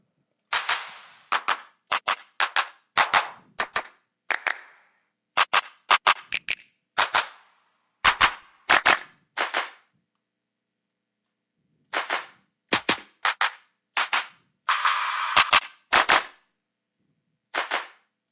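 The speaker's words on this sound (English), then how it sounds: "let's put a clap" Sharp, dry clap samples for a nostalgic ballad beat, auditioned as isolated hits and short rhythmic bursts with silent gaps between them, crisp and loud with no voices.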